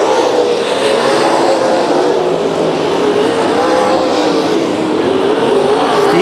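Karts race on an indoor track, several engines whining together in a loud, continuous high buzz that shifts in pitch as they pass close by.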